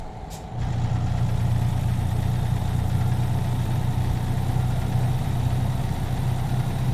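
Truck engine brake in American Truck Simulator, a loud, steady low engine drone that kicks in abruptly and holds an even throbbing rumble throughout.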